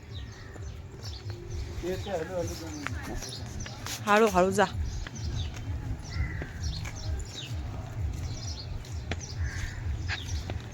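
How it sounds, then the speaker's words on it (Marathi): Sparrows chirping and a few crows cawing, mixed with outdoor background noise near farm fields, with people talking briefly over them. "मस्त असं पक्ष्यांचा आवाज पण येत आहे चिमण्यांचा चिवचिव कावळ्यांचा कावकाव"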